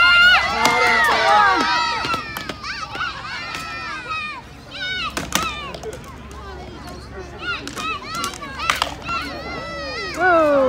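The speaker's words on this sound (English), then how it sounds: "Give him a big cheer." Cheers and excited shouts, including children's voices, rise from an outdoor audience for a fighter at an SCA medieval tournament, in loud bursts mixed with talk from a nearby announcer.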